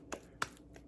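Pupusa dough filled with chicharrón and cheese is slapped between the palms. Three soft, quick pats come in a short, even rhythm, close and fairly quiet.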